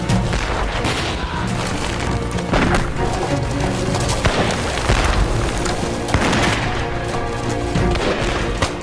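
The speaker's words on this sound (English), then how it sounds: "Cannon shells, grenades, and musket fire rained down on the sailors" A dense, continuous battle soundscape of cannon booms and musket fire, heavy and loud throughout with overlapping blasts and crackling shots.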